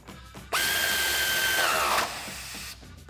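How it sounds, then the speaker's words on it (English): Power tool with an 18mm socket tightening a shock bolt on a Jeep Wrangler JL during a lift kit install, one steady high whine of about a second and a half that drops in pitch as the bolt seats. "let's grab our 18mm socket and get this tightened down"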